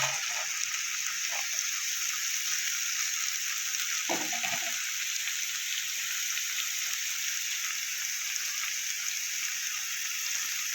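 Chopped carrots added to potatoes already frying in a pan keep a continuous hissing sizzle going, with a brief stirring clatter partway through and no talking.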